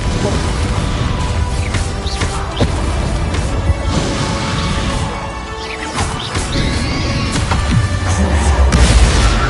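The Confringo explosive spell goes off during combat in Hogwarts Legacy, with booming blasts and crashing impacts layered over dense, continuous battle noise and whooshes, loud throughout.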